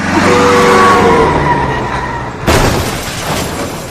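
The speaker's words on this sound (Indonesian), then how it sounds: "akibat kecelakaan tersebut, Melissa dan Fatih pun harus berurusan dengan pihak kepolisian setempat." A car crash scene: a loud engine with skidding tires sweeps along, then a sharp burst of impact and shattering noise hits near the midpoint and trails off, with no talking.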